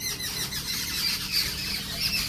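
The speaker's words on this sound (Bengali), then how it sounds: "বিকেলবেলা এখন পাখিগুলো এত কিচিমিচি করছে" Birds chattering and squealing on an afternoon, a busy, continuous high-pitched twitter against a steady outdoor background for a couple of seconds.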